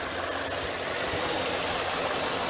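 A Chevrolet Ecotec car engine idles steadily after an overhaul with a low, even rumble and faint knocking, alone without voices.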